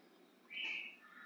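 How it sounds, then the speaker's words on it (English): Loud birds chirping just outside a window: a bright, sustained burst of birdsong rises over a faint background, swells for about half a second, then settles into softer continued calls. "there are very loud birds outside my window"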